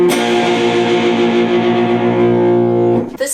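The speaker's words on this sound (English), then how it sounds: "The reason that you can achieve that is that you can bend notes on a guitar." An electric guitar lick from a song with bent notes rings out loud and distorted, a sustained wavering tone with chorus and echo, stopping sharply after about three seconds with no talking.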